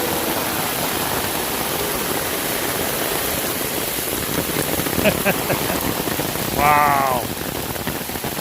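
Heavy rain pours down during Tropical Storm Fred beside a stream overflowing its culvert, a loud, steady broadband wash that fills the whole clip, with a brief exclaiming voice near the end.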